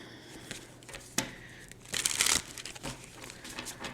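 Tarot cards being handled and shuffled close up, a series of soft crinkling and riffling bursts with a louder cluster of rustles partway through.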